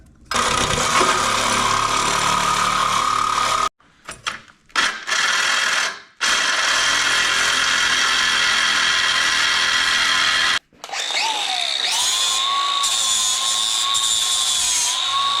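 A power tool cuts off the factory steering stabilizer mount during a 6-inch lift install on a GMC Jimmy/Blazer: loud, sustained grinding whine in long bursts with brief pauses, then a rising, shifting pitch as the cut progresses.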